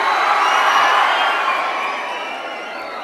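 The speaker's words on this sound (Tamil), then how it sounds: "விராட் கோலிங்கிற பேரை நான் இங்க சொன்ன உடனே 1000 பேர் இங்க கைத்தட்டி அப்படியே கத்துறீங்கல்ல" A large audience of around a thousand people in a college hall roars with loud cheering, shouting and clapping, a dense sustained wall of crowd noise that slowly fades toward the end.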